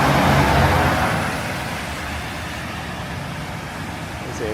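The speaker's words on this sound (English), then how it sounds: "a noisy ass bus" A noisy city bus rumbles past on Yonge Street in Willowdale, Toronto, its low engine roar loudest at first and then easing off into a steady hum of traffic.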